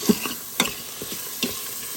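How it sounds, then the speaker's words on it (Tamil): Tomatoes and green chillies sautéing in a pot, with a few soft stirring scrapes and a light sizzle at close range, heard alone, in Tamil-style prawn biryani cooking. "இப்போது தக்காளியும் பச்சை மிளகாவும் இதில் போட்டுடுறேன். இது எல்லாத்தையும் கொஞ்சம் வதக்கிக்கலாம்."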